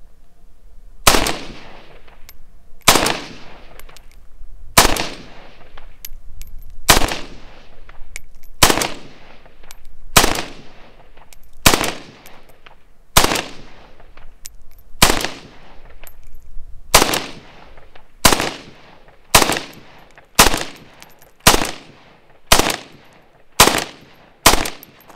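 Rifle shots fired single shot at a target a mile away, about twenty sharp cracks in a steady rhythm, loud and close, with no talk.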